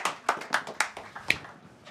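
A small scattering of audience applause at a sustainability meetup, a handful of distinct, fairly faint claps in an uneven rhythm, with no talking.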